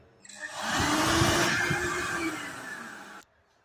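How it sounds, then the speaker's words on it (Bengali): A hand dryer in a shopping mall toilet starts abruptly and blows with a loud, steady whooshing roar and a faint whine for about three seconds, then cuts off sharply. "আর এই হলো হ্যান্ড ড্রায়ার"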